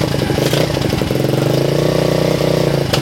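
A 125cc dirt bike engine starts and runs, a loud close two-stroke-style idle with a rapid throbbing beat and a brief blip of revs near the end.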